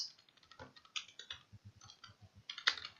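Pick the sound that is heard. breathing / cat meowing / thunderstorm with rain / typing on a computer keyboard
typing on a computer keyboard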